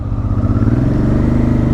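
A carburetted Honda Transalp motorcycle engine idles loudly up close, with a steady low throbbing beat and a mechanical clatter running throughout.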